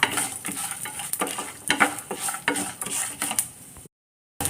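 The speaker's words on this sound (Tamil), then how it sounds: "இது சிம்மிலேயே நல்லா வதங்கட்டும்" Puliyodharai spices sauté in a pan over a low flame, a soft steady sizzle broken by scraping, clinking stirs of a spoon, before a short silence at the end.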